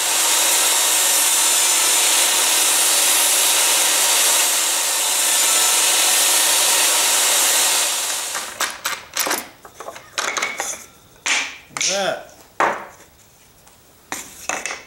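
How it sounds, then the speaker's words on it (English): A waxed crosscut sled slides back and forth on a DEWALT jobsite table saw, a smooth rubbing hiss for the first half, then a run of short, uneven sliding and knocking strokes, close and fairly loud with no talk. "that wax makes a huge difference. Thing just glides on here now."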